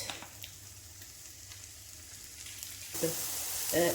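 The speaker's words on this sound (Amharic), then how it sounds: "ትንሽዬ ቅቤ፣ ጨው የሌለው ቅቤ አድርጋችሁ መጥበስ ትችላላችሁ ዶሮውን።" Steady sizzle of chicken frying in unsalted butter hisses throughout, with a couple of louder scraping stirs near the end.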